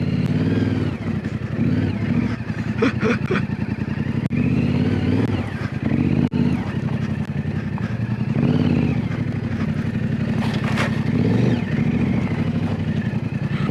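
A mini bike engine runs steadily throughout while being ridden, with a continuous mid-pitched drone that rises and falls in brief revs and some clattering bursts, fairly loud and close with no talk.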